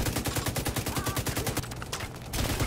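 Automatic gunfire from The Division 2 video game rattles in a rapid, evenly spaced burst of shots, pauses briefly, then resumes, loud and up close.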